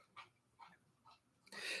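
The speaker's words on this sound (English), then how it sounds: "Oh, the neighbor dogs are barking." Neighbourhood dogs bark a few times at a distance, faint and spaced out, followed by a louder burst of close noise.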